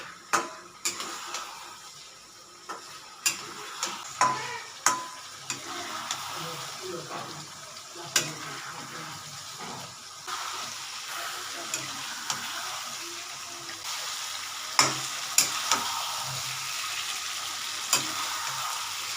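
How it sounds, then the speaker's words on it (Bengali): Cauliflower and spring onions are sautéed in a pan, with a soft frying hiss under repeated clicking and scraping stirs against the pan at an uneven pace. "এবার এটাকে একটু ভালো করে কষাতে হবে"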